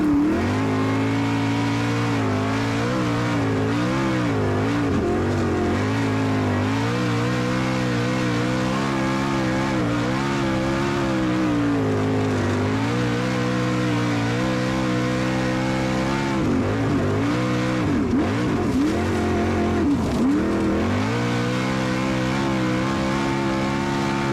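Race cars run hot laps at Avalon Raceway, with one loud engine droning close and continuously while its pitch rises and falls through throttle changes and revving.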